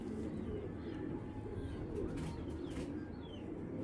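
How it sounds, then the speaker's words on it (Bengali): Pakistani racer pigeons, grizzle, red checker and chocolate birds, coo softly and repeatedly in a quiet loft, their low murmuring calls overlapping at a close distance. "grizzle red checker choco Pakistani racer কবুতর"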